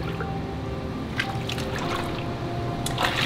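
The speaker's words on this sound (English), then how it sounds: "So you just push gently down into the water" Skeins of yarn are pressed gently down into a basin of water, making soft sloshing and trickling sounds close by, with a couple of brief splashy bursts.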